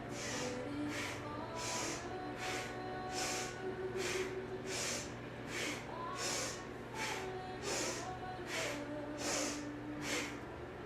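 Short, sharp rhythmic breaths pushed through the nose during Kundalini yoga, a steady train of about a dozen forceful puffs, close and clear over a low background hum.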